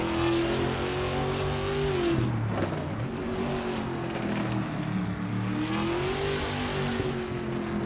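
Trans Am race cars, Mustangs and a Camaro, roar around a track with high-speed corners, engines droning loud and steady as pitch rises and falls through shifts and passes, continuous with no talk.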